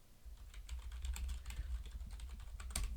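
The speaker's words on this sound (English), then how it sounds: "I'm going to type it in here." Rapid keystrokes on a computer keyboard during a live stream, a steady run of close, crisp clicks with a few louder key hits and no talking.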